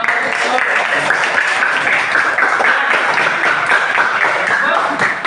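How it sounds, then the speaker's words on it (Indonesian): Schoolchildren in a classroom clap their hands together in a lesson, a steady, busy patter of many small hands filling the room for several seconds at an even loudness. "Oke, tepuk tangan anak-anak."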